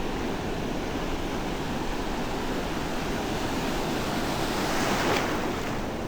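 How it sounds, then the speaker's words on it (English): Surging sea water rushes in a continuous broad wash, steady and full with a slight swell late on, mixed with wind buffeting the microphone, no voices. "There's a bit of a surge in the water."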